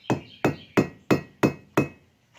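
A small metal chain link is struck on an anvil to widen it, giving six sharp, evenly spaced hammer blows with a bright metallic ring, close and clear, then a faint final tap.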